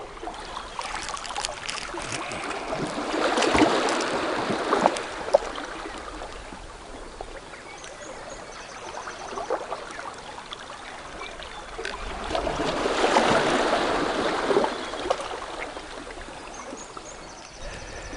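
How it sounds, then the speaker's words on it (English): Small waves come in and break on the rocky North Antrim coast in two soft, rushing surges with fizzing, trickling water between them, fairly close and moderate in volume, with no speech. "as the little waves come in and break"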